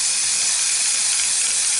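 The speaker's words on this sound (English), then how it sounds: "we will take our glue and we will give it a quick spray." A short, steady, loud hiss of an aerosol can spraying glue, close by and uninterrupted, used to coat a model bottle-brush tree for terrain.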